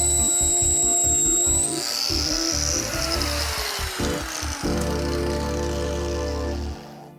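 Fine 220-grit sandpaper works over a tire, a steady, close, continuous abrasive rasp with a powered, tool-like drone that shifts pitch midway, heard alone with no talking.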